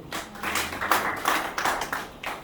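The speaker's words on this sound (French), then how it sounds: "Acclamons la parole de Dieu." A church congregation applauds together at a Sunday service of Throne of God Salvation Ministries, a moderately loud, fairly steady burst of clapping with a few stronger pulses, with no talk over it.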